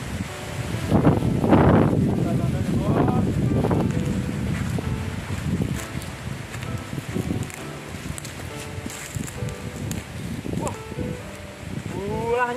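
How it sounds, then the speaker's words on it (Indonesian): Strong wind gusts over a hillside fruit orchard, buffeting the microphone with a loud, rushing roar that rises and falls, mixed with rustling and a few low murmurs in the background. "Angin kuat bos."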